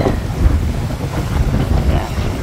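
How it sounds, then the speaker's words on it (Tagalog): Strong, gusty post-storm wind roars across the microphone in uneven gusts, with a low rumbling texture and no voices. "may mga pabugso-bugsong hangin na lang"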